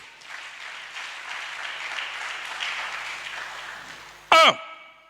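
A church congregation at a French-language worship service applauds the Lord in a steady, roomy wash of clapping for about four seconds, fading slightly before a short, loud tonal burst cuts in near the end.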